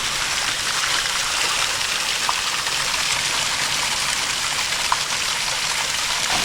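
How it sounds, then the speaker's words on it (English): A small waterfall along a hiking trail makes a steady, broadband rush of falling water, constant and fairly close, with no voices over it. "And another little waterfall."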